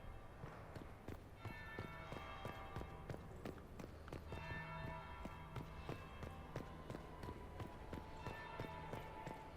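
A church bell rings in Dragon Age: Inquisition, its ringing tones sounding a few times over steady footsteps and clatter at a moderate, even level, with no voices.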